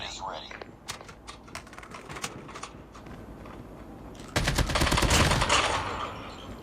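Sniper rifle shots in a mobile shooting game played on a phone, sharp scattered cracks followed by a dense burst of gunfire near the end, with people chatting.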